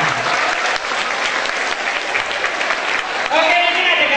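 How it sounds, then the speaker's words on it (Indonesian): An audience at an Indonesian talk show breaks into sustained, dense clapping for about three seconds before a voice begins speaking over the tail. "Tepuk tangan ya."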